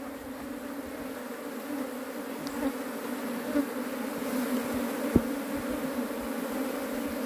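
A honey bee swarm buzzes inside a shed, a dense steady drone close by that holds for several seconds, with a few faint knocks.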